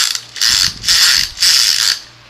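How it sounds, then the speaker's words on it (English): A Transformers Cybertron Buzzsaw toy's spinning-rotor gimmick whirs in three loud, close, raspy mechanical bursts, each lasting about half a second, with short gaps between them and no voices. "he gets the spinning rotor, which makes an annoying sound"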